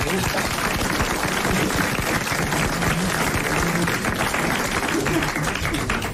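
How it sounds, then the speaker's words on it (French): A studio audience at the Grosses Têtes radio show applauds a contestant, giving a dense, even roar of clapping that stays steady from start to finish. "vous applaudissez Monsieur Belfond-Palaiseau"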